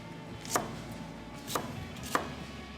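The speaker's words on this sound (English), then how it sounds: "Let me chop this onion up just a little bit." Knife chopping an onion on a cutting board for hot sauce, three crisp, spaced chops at moderate volume over a quiet kitchen background.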